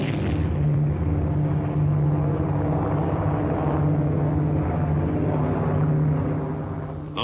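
Piston engines of a B-24 Liberator bomber drone in a steady, loud, continuous hum with a low throbbing tone, holding level throughout as on an old wartime film soundtrack.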